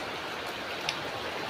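Steady rain hisses in a dense, even wash of noise, with one faint tap standing out briefly.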